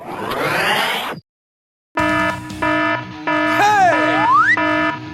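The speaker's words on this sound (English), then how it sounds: "The alarm is on. Time to go on duty." A cartoon alarm rings in loud, steady electronic tones that switch on and off in a pulsing pattern, with a rising and falling springy sweep near the end, after a brief silence.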